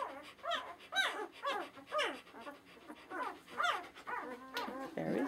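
A four-day-old Shiloh Shepherd puppy squeals and whimpers in a rapid string of high, close cries while it is picked up and handled.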